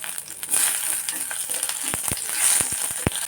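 Chana dal and urad dal sizzle and crackle in hot oil with mustard seeds, a steady frying hiss with sharp pops and stirring clicks, close by.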